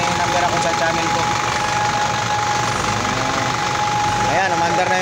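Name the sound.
Isuzu 4HG1 engine running after piston ring installation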